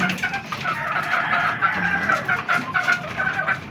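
White Kelso gamefowl chickens cluck at feeding time in a close, continuous jumble of short calls, with no talk over them.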